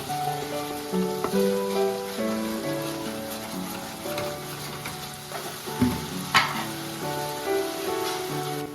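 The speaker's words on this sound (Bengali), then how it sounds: "এখানে আমি 50 গ্রাম টক দই দিয়ে খুব ভালো করে মিনিট 7 পর্যন্ত নেড়ে নেবো যতক্ষণ না তেল ছাড়বে" Bengali masala cooking with yogurt in a pan, a continuous soft sizzle and frying crackle with occasional stirring scrapes, while music plays underneath.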